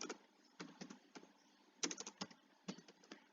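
Keys clatter on a computer keyboard as a command is entered, quick irregular bursts of crisp close taps with short pauses between, quiet and alone.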